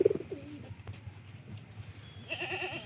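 Pigeons coo in low, rolling calls nearby, a couple of throaty bursts at the start and a steadier cooing swell near the end, over faint background noise.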